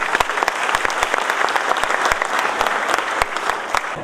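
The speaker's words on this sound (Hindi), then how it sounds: "जोरदार तालियां ज्योति के लिए।" Sustained audience applause at an Ambedkar Jayanti event for a speaker named Jyoti, dense rapid clapping from a crowd holding steady and loud for the full stretch with no talk over it.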